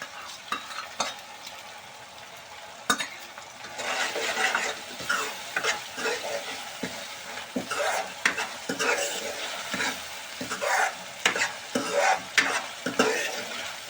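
Tomatoes sizzle in a frying pan while a utensil stirs and scrapes repeatedly, clicks and taps rising in a busy, uneven rhythm.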